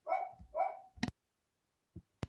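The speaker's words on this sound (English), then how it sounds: "my dog's fucking going off" A dog barks nearby indoors: two drawn-out, whining barks followed by a few sharp, short barks with quiet gaps between them.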